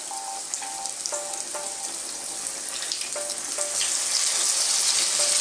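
Tortang talong, an eggplant omelette, sizzles steadily in a frying pan. The frying grows slightly louder toward the end, and a few faint beeping tones come through in the first half.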